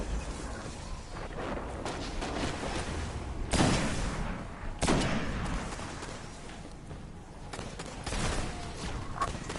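Gunfire and booming blasts from the video game Destiny, with dense rattling shots and a couple of louder bursts near the middle, set over a constant busy bed of game noise.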